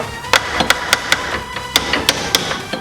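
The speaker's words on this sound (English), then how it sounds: "Then just use a little hammer to tap it in." A small hammer taps a wheel bearing race into an AE86 hub during a Wilwood big brake upgrade, giving about ten crisp metallic knocks in uneven clusters, close and loud over faint garage noise.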